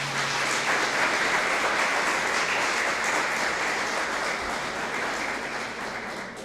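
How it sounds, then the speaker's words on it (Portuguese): A congregation in church applauds together during a sermon, a full, dense clapping that stays strong and steady for several seconds, then fades slightly toward the end. "Pode aplaudir o Senhor,"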